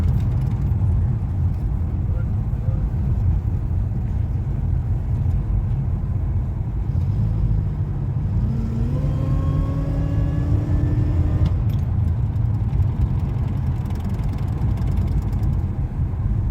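A 2006 Grand Prix with a supercharged 3.8L engine and 4T65E-HD transmission drives along with a steady low rumble from inside the cabin, and a rising engine whine climbs midway before settling back.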